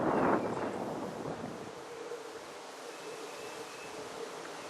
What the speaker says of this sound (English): It's fairly windy down here today